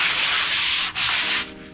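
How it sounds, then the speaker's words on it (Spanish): Sandpaper rubs lightly across kitchen cabinet doors in two close, loud continuous passes with a brief pause between. "Y ya aquí también le vamos a pasar la lija."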